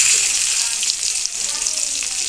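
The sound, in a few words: vegetable stems added to fried tempering, sizzling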